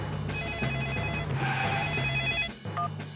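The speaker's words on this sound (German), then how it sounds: "Ich rufe Herrn Bulle an." Cartoon telephone ringing in a house, a repeating electronic bell tone with short trilled bursts and brief gaps, close and clear over light background music.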